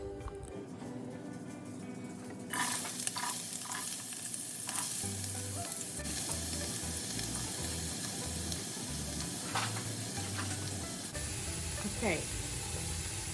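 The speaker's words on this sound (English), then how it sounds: "I'm sauteing the onion in medium-high heat." Onion sautés over medium-high heat in a pan for Filipino spaghetti sauce, giving a steady, close sizzle and crackle throughout, with scraping and stirring clatter and a brief spoken word near the start.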